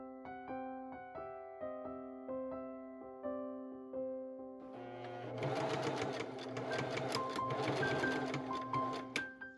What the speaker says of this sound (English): I machine sew those ruffles down.